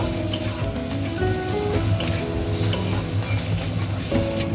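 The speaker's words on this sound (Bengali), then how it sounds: "ভালো করে মশলাটা ভেজে নেব" A spice mix of turmeric and chili powder with green chilies frying in a pan gives a continuous sizzle with stirring scrapes, partly masked by background music and without speech.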